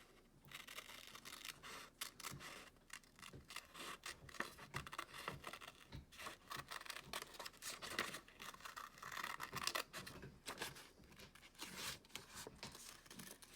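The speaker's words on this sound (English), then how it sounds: "you're carefully closing your scissors, and you're carefully rotating your paper and turning your paper." Scissors snip through paper to cut out a paper flag, a faint run of crisp, irregular cuts and rustles that sounds close and quiet with no talk.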